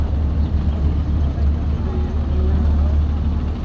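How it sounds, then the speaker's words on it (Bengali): A speedboat towing another boat on a river in the Barisal area: a low, steady motor rumble dominates, continuous and fairly loud, with wind and water texture around it. "ও, ওকে স্পিড বোট টেনে আনতেছে।"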